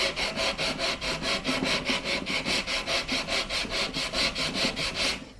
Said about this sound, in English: So we'll take our sanding block here and we just go gently here.